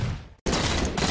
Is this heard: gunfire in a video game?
yes